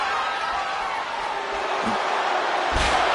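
Capacity arena crowd in a WWE wrestling video game, a steady broadband roar of many voices filling the whole clip, with a couple of dull thuds near the end.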